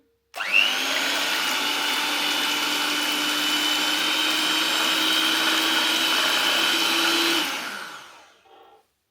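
A blender whirs steadily at high speed as it mixes double cream for homemade ghee. The loud, even motor drone starts abruptly, holds for about seven seconds, then winds down and stops.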